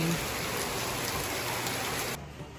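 Heavy rain pours down in a dense, continuous hiss, close and loud, easing slightly near the end.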